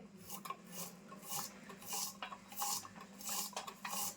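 Two onions and a tomato are finely chopped with a knife on a board for a Malvani-style drumstick and potato dry vegetable. A steady, rhythmic series of crisp knife strikes sounds close by, with no talking.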